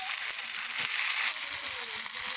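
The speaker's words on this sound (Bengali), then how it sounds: "আদা রসুন পেঁয়াজটা ভালো করে ভেজে নিয়েছি। এবার টমেটো কুচি দিয়ে দিচ্ছি" Chopped tomato hits a pan of fried ginger, garlic and onion and sizzles steadily, a bright, close frying hiss running through the whole moment.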